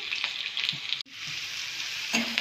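Poha tipped into a hot pan of sizzling peanuts, chilli, onion and curry leaves, a steady close hiss of frying with a brief dip near the middle, then a soft stir, no voices.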